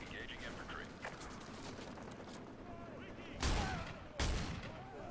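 Call of Duty: Modern Warfare 2 Campaign Remastered battle with distant gunfire crackling throughout and two loud, close bursts of shots near the end, with voices speaking in the background.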